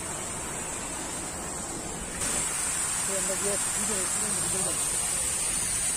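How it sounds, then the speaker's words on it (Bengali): Water falls at a miniature Taj Mahal replica in Kolkata, a steady broadband rush that swells slightly partway through, while a person talks over it. "আর এই দেখো জল পড়ছে"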